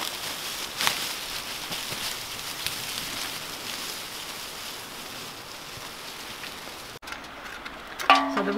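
Steady rain falling outdoors in the Appalachian countryside, a dense even patter at moderate loudness that continues without a break and cuts off near the end.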